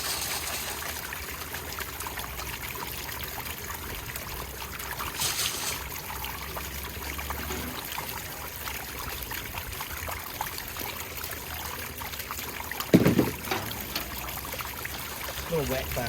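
Water washing paydirt through a classification tray, a continuous trickling wash running throughout with brief splashes and one sharper clatter near the end.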